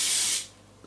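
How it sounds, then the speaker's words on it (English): Hairspray is sprayed onto fine hair in one close, loud hissing burst lasting under half a second, then cuts off into near silence. "spray my hair with hairspray and then let it cool"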